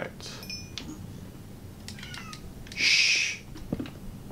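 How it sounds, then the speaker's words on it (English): A cat outside lets out one long, loud, drawn-out meow in the middle, with a few softer chirps and some muffled talking around it. "I'm sorry if you guys can hear the cat outside meowing."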